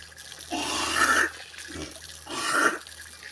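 Water gushes from a tap during dishwashing in two distinct bursts, each about a second long, separated by a brief lull with a low background hum.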